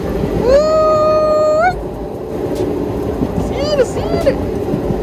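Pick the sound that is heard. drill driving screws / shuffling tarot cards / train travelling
train travelling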